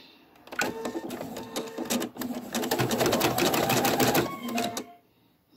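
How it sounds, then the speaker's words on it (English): A Viking Designer embroidery machine stitches a zigzag outline on minky fabric held in a magnetic hoop, giving a loud, steady rapid mechanical whirr with clicking motor tones that runs for several seconds and then stops. "now I'm going to hit start, and it's going to do the zigzag stitch"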